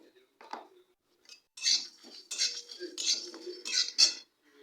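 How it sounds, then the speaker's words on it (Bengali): Whole coriander seeds frying in a pan as a utensil stirs them, with sharp metallic scrapes and clinks in short irregular bursts, close and fairly quiet, separated by near silence. "আমি ধনে দিয়ে দিলাম মানে গোটা ধনে একটু নাড়াচাড়া করে নেব"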